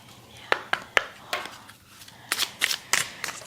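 Tarot-style oracle cards slide and snap out of a deck: a few crisp flicks early on, a quieter gap, then a quick run of sharper card snaps close by, with no talking.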